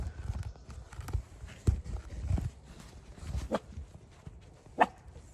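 A dog barks in scattered single and paired woofs close by, with quieter shuffling and thumps between them and no talking.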